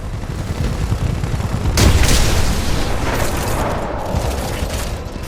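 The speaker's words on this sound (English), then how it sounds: "I do love the sound of that sniper rifle" Gauss-style sniper rifle fire in Titanfall 2, a sharp booming shot near two seconds over steady game noise, with a fainter second blast around three seconds.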